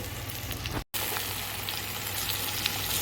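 Bitter gourd, about half a kilo, steams and sizzles in a covered pan, a steady hissing fry that keeps an even level apart from one short silent break.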